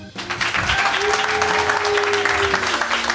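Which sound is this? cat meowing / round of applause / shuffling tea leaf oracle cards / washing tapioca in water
round of applause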